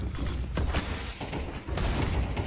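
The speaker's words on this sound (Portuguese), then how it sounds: "Acertou três tiros, digo, o Davi Deus pra matar ali." Gunfire in a Counter-Strike match on the Ancient map at a CBCS tournament, a few close, sharp shots in quick bursts among game clatter, with no voices.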